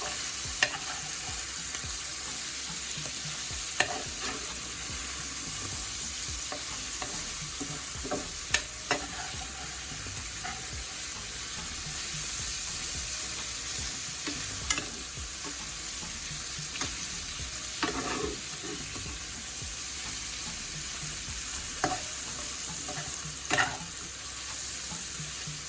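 Salt mackerel sizzling steadily in a pan while a utensil stirs and folds it, a constant frying hiss with occasional soft scrapes and clicks, no talking.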